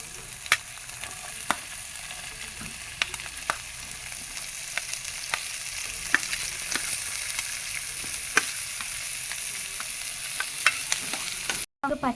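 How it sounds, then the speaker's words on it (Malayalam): Sliced onions fry in hot coconut oil in a pan for macaroni masala, giving a steady, close sizzle with occasional pops and light stirring taps throughout. "പാൻ ചൂടായപ്പോൾ നമുക്ക് ഇതിലേക്ക് വെളിച്ചെണ്ണ ഒഴിച്ചു കൊടുക്കാം. ഉള്ളി ഇട്ട് കൊടുക്കാം."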